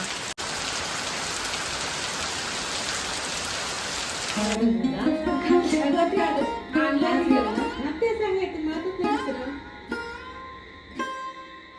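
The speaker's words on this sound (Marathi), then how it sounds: "आणि इतका भयानक पाऊस लागलाय म्हणजे एकदम रौद्र रूप धारण केलंय पावसाने खूपच" Very heavy monsoon rain pours in the Konkan, a loud dense roar for about four seconds before a person starts talking and the downpour drops behind the voice.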